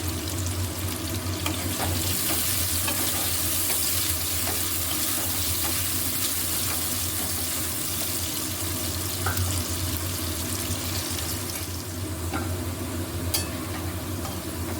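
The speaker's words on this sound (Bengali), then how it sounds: "একটু হালকা করে, একদম আলুর থেকেও হালকা ফ্রাই করব।" Carrots are lightly fried in oil with a pinch of salt for a sweet corn alurdom, producing a steady, close sizzle with occasional faint clinks of stirring over about fifteen seconds.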